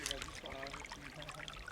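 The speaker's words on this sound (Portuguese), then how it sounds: "Aqui tem um córrego protegido pela vegetação." A small stream runs through Cerrado gallery forest on a university campus, giving a faint, steady trickle and babble of water in the shade of the vegetation, with soft scattered high chirps above.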